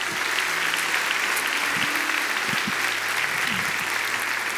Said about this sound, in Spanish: Dame un aplauso a esta gente linda.